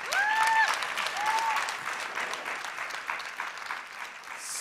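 A gala audience gives a singer loud, dense applause, with a couple of sharp whistles near the start, sustained and gradually easing.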